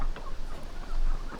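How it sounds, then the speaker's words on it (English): Chickens clucking close by while being given scratch feed on a family farm, a steady busy cluster of short clucks and fowl calls over a low rumbling background. "she's hanging out with the chickens"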